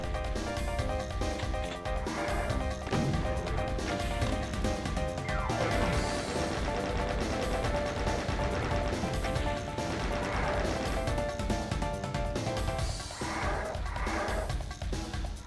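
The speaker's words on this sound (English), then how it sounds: "And yes, we shot that stained glass open." Stained glass window shot and smashed open in the Doom video game, a dense, loud wash of game audio with repeated crashing and gunfire-like hits over a constant, full mix of sound effects and music.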